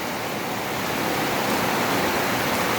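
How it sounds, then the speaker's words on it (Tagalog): Dense, steady hiss of heavy rain pouring down, a broad continuous roar with no pauses and no voices. "Biglang buhos ng lakas ng ulan eh."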